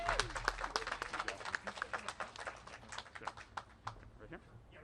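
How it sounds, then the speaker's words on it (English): A small crowd applauds at a community press conference, a loose spread of claps of moderate volume with voices mixed in. "let's give one more big round of applause for Mr. Vega here."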